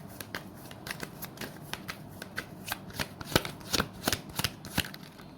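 Tarot cards are shuffled by hand, a run of crisp riffling bursts and sharp flicks repeating at close range, growing a little louder toward the end, with no talking.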